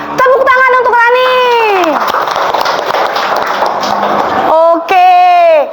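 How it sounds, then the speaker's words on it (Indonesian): Primary schoolchildren in a classroom clapping for a classmate, a brief burst of lively applause mixed with children's voices, bracketed by someone speaking. "Tepuk tangan untuk Rani."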